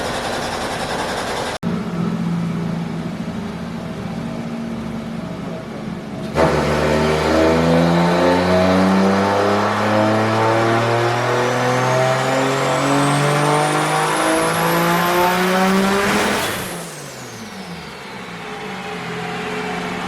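Turbocharged 1JZ engine in a Nissan Pulsar revving hard on a dyno, running too much boost: a steady roar that surges louder as it climbs in pitch through the revs, then drops back to a lower drone near the end.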